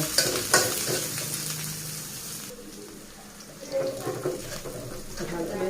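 Chopped onion and green chilli hit hot oil in a pan, giving a close, crackling sizzle that is loud at first, then settles into steady frying broken by stirring scrapes.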